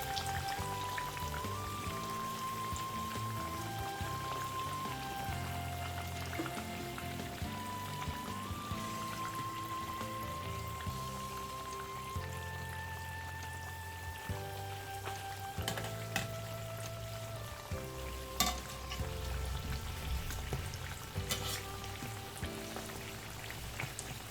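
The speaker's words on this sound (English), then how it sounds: "We're going to leave this to fry for 2 to 3 minutes before turning the other side of the donut" Doughnuts fry in hot oil with a steady, close crackling sizzle that rolls on for a long stretch, faint tonal background sounds drifting under the bubbling.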